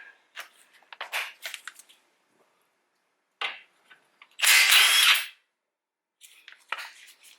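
A wrench works loose a 19 mm tie rod nut on a 2012 Toyota Camry, producing short bursts of metallic ratcheting and clicking, close and fairly loud, with one longer harsh burst between quiet gaps.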